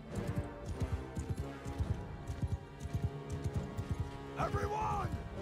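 Horse hooves clatter in a rapid, uneven gallop inside Mount & Blade 2: Bannerlord, a medieval battle game, mixed with game noise and a brief whinny-like cry near the end, while players talk over it.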